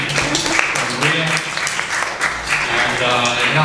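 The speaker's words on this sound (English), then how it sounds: "let's give a hand for Maria" Audience applause for Maria at a Saturday-night skit show, a steady wash of many hands clapping close and loud, with a few voices and whoops mixed in.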